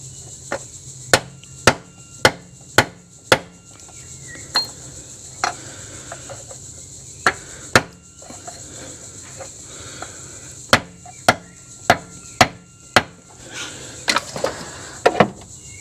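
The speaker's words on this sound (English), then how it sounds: "So I'll just use a form of a couple of soft hammers and then a big socket just to finish it off" Engine seal on a Holden VR Calais being tapped into place with soft hammers and a big 55mm socket: sharp, close hammer strikes in irregular clusters of single blows, with quiet gaps between and faint background hum.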